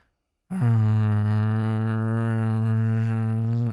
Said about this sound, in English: Drone music.